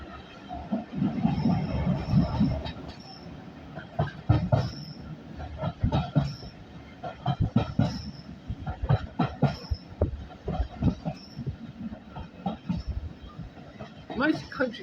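Steam locomotive Titan hauling a train from Corfe Castle to Swanage, heard from on board: irregular clanks, wheel knocks and squeals over a steady rolling rumble, with voices talking throughout.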